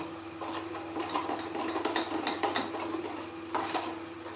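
Food being mixed by hand in a bowl in a home kitchen, with soft squelching, scraping and light clinking in an uneven rhythm at close range and no voices.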